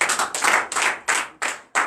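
Church congregation at a Sunday service clapping in rhythmic unison, a sharp burst on each beat with brief gaps, close and loud.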